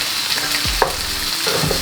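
Ginger fries with onion in a pan for a Bengali dal, giving a loud, close, steady sizzle with one brief stirring clack partway through. No voices.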